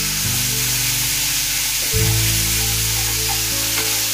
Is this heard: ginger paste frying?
yes